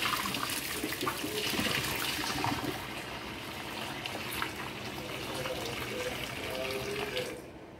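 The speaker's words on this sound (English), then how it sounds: "I'm gonna drain the water off the noodles" Water from a pot of cooked spaghetti noodles pours steadily into a kitchen sink, a continuous loud splashing rush that holds for several seconds before tapering off at the end.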